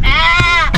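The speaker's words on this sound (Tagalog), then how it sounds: "Yan yung mga kambing ko nasa likod pa." Goats bleat close by from behind a house: a loud, wavering bleat fills most of the moment, and a second short cry breaks in right at the end.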